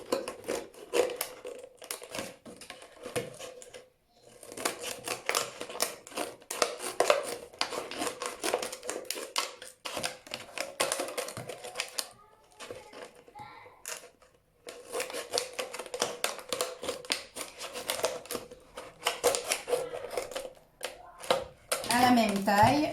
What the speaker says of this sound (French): Vous allez couper toute la bouteille,